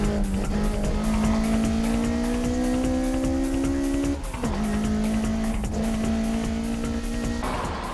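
A Hachiroku and a Subaru Impreza race out of a tight downhill hairpin, engines droning steadily and climbing in pitch under acceleration, with a brief lift midway before pulling hard again, loud and close with no talk.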